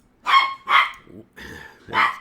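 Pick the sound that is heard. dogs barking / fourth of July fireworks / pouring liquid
dogs barking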